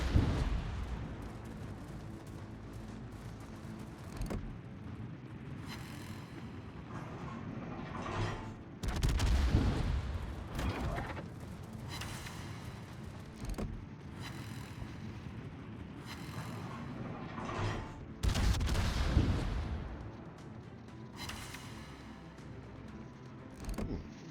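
Battleship guns fire salvos in World of Warships, the Tier IX battleship Illinois in the Cherry Blossom operation: several deep, booming blasts spaced seconds apart, each with a rumbling tail, over a constant low engine and sea drone.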